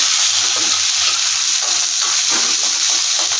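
Chopped onions and curry leaves fry in sesame oil for a fish kulambu, giving a loud, steady, close sizzle with continuous bubbling hiss and no talking.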